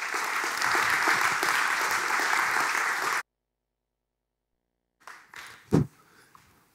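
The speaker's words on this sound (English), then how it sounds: "So please give a big applause for Raul Balai" Steady, loud applause from an audience at a graphic design talk fills the room for about three seconds, stops abruptly into silence, then a few faint knocks and shuffles follow.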